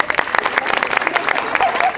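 Clapping and applause from spectators at a yosakoi dance performance at an outdoor festival venue in Dazaifu, a dense steady patter of hands with crowd noise mixed in throughout.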